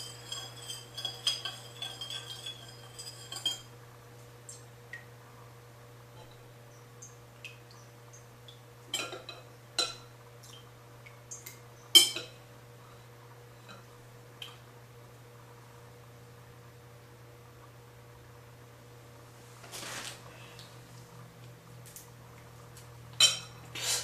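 A spoon clinks against a container of lip balm being made: light, scattered metallic taps spread unevenly over a steady low hum, with no voices.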